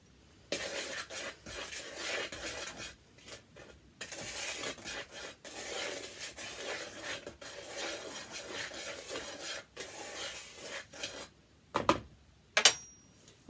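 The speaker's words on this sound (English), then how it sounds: "we're going to stir those two together" A utensil stirs dry flour and salt together in a bowl for homemade playdough, making soft rasping, scraping strokes in irregular bursts, with a few sharper knocks near the end.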